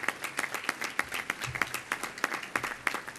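Modest audience at a Rochester Rotary award event clapping for the honorees, sparse and fairly quiet, individual claps distinct in an uneven rhythm.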